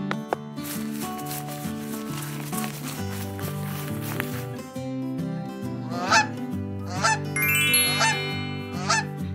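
A goose honks several times, loud and near, over steady background music with some rustling and shuffling.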